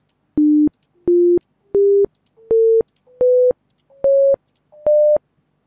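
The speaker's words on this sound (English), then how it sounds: "And that is the console tone." Seven short electronic beeps from a phone, each a little higher than the last, evenly spaced and loud, with silence between them.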